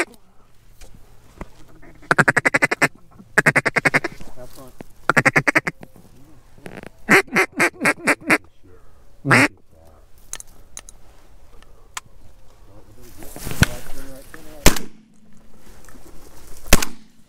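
Ducks quack in bursts of rapid calls across a field during a mallard hunt, several loud nearby sequences separated by quiet gaps, with a few sharp bangs and brief outdoor noise.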